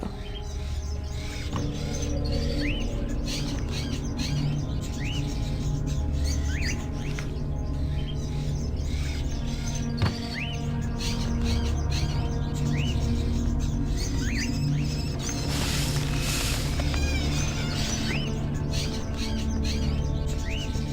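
Bird calls in the Indigo Prophecy video game: repeated short chirps and tweets over a dense, steady ambient bed with low hum, continuing for the whole stretch at moderate level.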